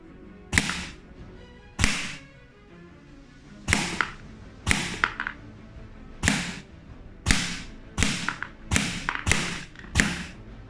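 Shots from a Kaslab MTW HPA airsoft rifle striking a target, about a dozen sharp, dull thuds at irregular intervals, some in quick pairs, fairly faint and with no talking.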